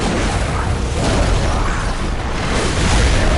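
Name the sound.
explosion in the video game Bloodborne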